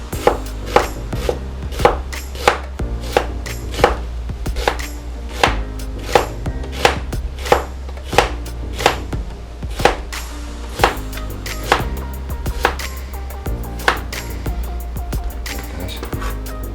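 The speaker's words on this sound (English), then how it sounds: "get our onions sliced and minced" A sharp kitchen knife chops onions on a cutting board for Jamaican jerk cooking. Crisp, evenly spaced strikes land close and loud, about one per second, with a few quick double taps.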